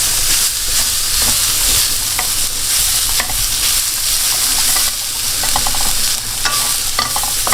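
Vegetables stir-fried in an oiled pan, with a steady, loud sizzle and hiss and frequent scraping and stirring clicks throughout.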